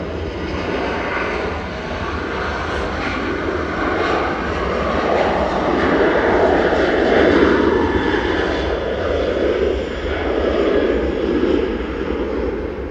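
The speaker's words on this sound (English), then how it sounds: "Ryanair to Dublin, departing in parallel, EIDWM with flight 555." A Ryanair airliner departs Manchester Airport, its engines roaring loud and steady as the thrust swells and fades over several seconds, with no talk over it.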